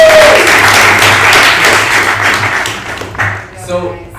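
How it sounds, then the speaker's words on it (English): Applause for a presenter at a university info session, a loud burst of clapping from the audience that fades out over a few seconds while a voice speaks over it. "Another round of applause for Don."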